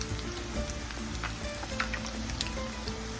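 Chicken flautas fry in hot oil on medium-high heat, half submerged, giving a steady, close crackling sizzle with scattered pops and no talking.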